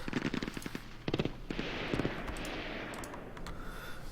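Bursts of machine gun fire from the ASL mod war game, several short rapid volleys in the first two seconds, then a sustained rumbling wash of gunfire and battle noise without any talk.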